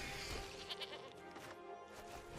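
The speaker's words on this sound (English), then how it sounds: "let's get another goat here" A goat bleat sound effect from the Magic: The Gathering Arena video game, a single wavering bleat lasting about two seconds, clear and fairly loud.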